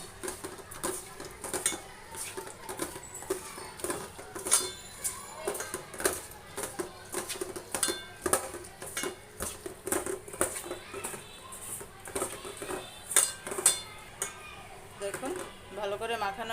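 Wet squishing and clinking of utensils against a metal pot as chicken is mixed with spices by hand or spoon, with soft scraping throughout at close range.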